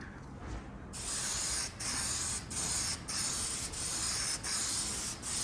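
Spray gun laying a heavy guide coat on a car body during bodywork, a close, loud airy hiss in repeated bursts of about half a second with short gaps between passes.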